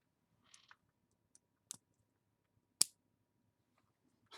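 Lego bricks snap together in small, sharp plastic clicks, a handful of isolated taps spaced irregularly over a few seconds, close and quiet in an otherwise silent room, with one crisper click standing out.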